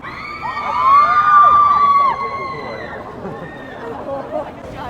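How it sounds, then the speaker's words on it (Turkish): Spectators at a Türkiye vs Canada match in Hong Kong cheer and shout excitedly, high voices swelling loudly for a couple of seconds and then settling into a busy, noisy hubbub. "Asyalı seyirciler çok heyecanlı."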